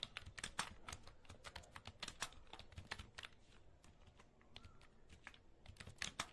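Rapid clicking of keys on a computer keyboard while an address is entered, a steady close-up run of crisp keystrokes with no talking.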